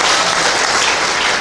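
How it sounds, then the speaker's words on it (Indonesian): Applause from an assembled crowd at a church youth day celebration, a dense, loud burst of clapping that fills the short moment on its own. "Kemudian silakan tepuk tangan."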